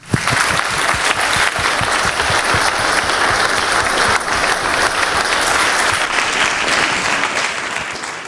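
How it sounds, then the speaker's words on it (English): An audience at a 2019 EUNIS conference session on digital ethics bursts into sustained, loud applause, a dense steady wash of many hands clapping that holds for about eight seconds before easing slightly at the end. "Let's give him a round of applause."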